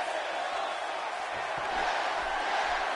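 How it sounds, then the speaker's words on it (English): A dense, steady roar from the arena crowd in the wrestling video game WWE 2K18, a continuous wash of noise that swells slightly toward the end, with a few low thuds underneath. "He's getting the crowd fired back up."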